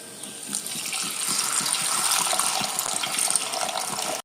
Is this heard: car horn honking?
no